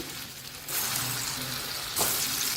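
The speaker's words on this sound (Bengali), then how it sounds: "এবার কড়াইয়ের মধ্যে সর্ষের তেল গরম হয়ে গেছে তার মধ্যে আমি এই ডালের বলগুলো ছেড়ে দিচ্ছি" Chana dal balls drop into hot mustard oil in a kadai, which sets off a loud, hissing sizzle that swells after a moment and flares again with a second drop. No one speaks.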